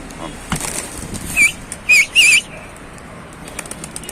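Pigeons burst into flight with several sharp flurries of wing flaps, close and loud, over steady outdoor background noise with a few faint chirps.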